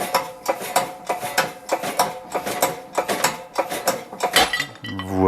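A workshop press working on a Peugeot 205 GTI engine part, producing a fast, regular metallic clicking and clattering rhythm close up, with a brief mechanical whine at the end.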